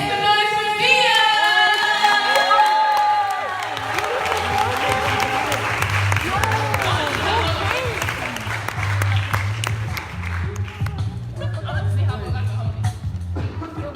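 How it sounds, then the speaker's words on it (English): An audience applauds and cheers for a poet at a report-release gathering in a Lutheran church, with dense clapping and whoops filling the room. A voice is heard briefly at the start before the crowd takes over. "So make some noise for Mia"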